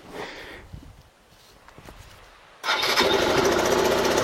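Suzuki DR 125 motorcycle engine that stalls without the choke and chokes under throttle: it sputters faintly, dips nearly silent, then bursts into a loud, rough, steady running roar close by.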